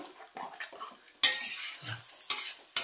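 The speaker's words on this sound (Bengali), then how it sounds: "এই যে সব মশলাগুলোর সাথে মিশিয়ে দিচ্ছি" A metal spoon scrapes and clinks around a pan as spices and chilli powder are stirred and mixed in a home kitchen. The close, uneven strokes come with a faint sizzle underneath and no speech.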